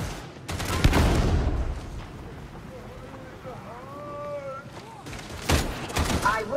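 Bursts of gunfire from Warhammer 40,000: Darktide: one loud volley, a quieter stretch with wind-like noise and faint tonal game sounds, then another rapid burst near the end.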